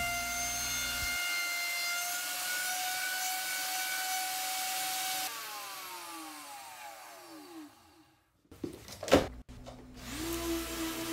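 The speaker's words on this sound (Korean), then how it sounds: "루터로 구멍 모서리를 사선으로 갈아냅니다" An electric wood router chamfers the edges of a hole in a wooden board: a steady, loud, high motor whine that winds down with a falling pitch, then a few knocks before the motor starts up again.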